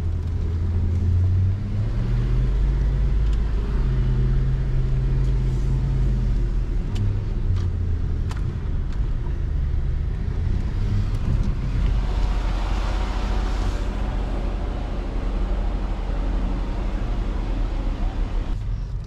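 A Land Rover LR4 creeps slowly over an obstacle, its engine giving a low, steady rumble with faint clunks and creaks from the suspension and body; brief voices can be heard in the background.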